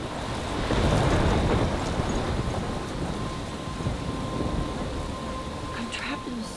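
Stormy weather in the video game Life Is Strange: heavy rain pours steadily with low rolling thunder beneath, loud and close, with a voice speaking over it.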